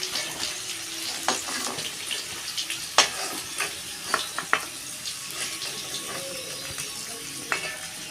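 Potato pieces deep-frying in hot oil for a rohu fish curry, giving a steady close sizzling hiss with scattered sharp pops and crackles.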